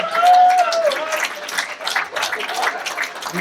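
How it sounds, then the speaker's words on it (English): Crowd applause at a stand-up comedy night breaks out as a loud burst, with a brief shout layered on top at the start, then continues as fainter scattered clapping and cheering. "give this guy a round of applause"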